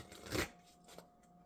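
Oracle cards are slid and drawn from a deck up close, one brief soft papery swish followed by a faint tap, then quiet.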